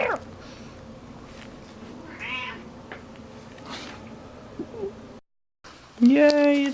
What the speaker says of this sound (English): All I've heard this whole time is meow